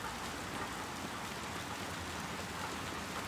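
Steady heavy rain from the video game Little Nightmares 2, a dense, even downpour hissing on surfaces throughout, loud and close with no talk over it.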